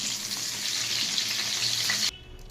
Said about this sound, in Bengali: পটলটাকে আগে ভেজে নিচ্ছি আমি